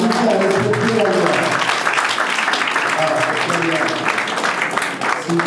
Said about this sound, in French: On applaudit le chef de famille qui a respecté la loi.